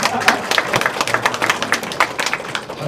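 Audience applause for a Seoul mayoral candidate after his campaign speech, a dense steady patter of many hands clapping throughout, fairly close and loud, with no voice over it.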